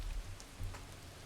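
Rain falling in the video game Far From Noise, a soft steady hiss of drops on a surface, quiet and continuous, with no voices over it.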